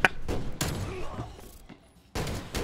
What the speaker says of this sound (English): Shooting guns in a library.